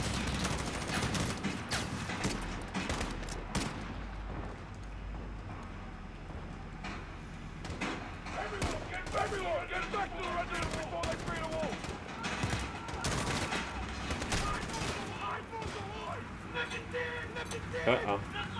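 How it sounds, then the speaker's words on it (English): Steady bursts of gunfire from Call of Duty Modern Warfare rattle throughout, sharp repeated shots and automatic volleys at moderate distance, with occasional speech mixed underneath. "that's a lot of shooting"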